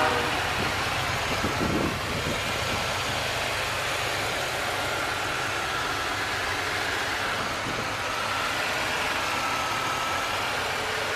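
A 2004 Chevrolet Impala LS with a 3.4-liter series 2 V6 and 218k miles idles after start-up, a steady low rumble holding even and continuous throughout with no talk over it.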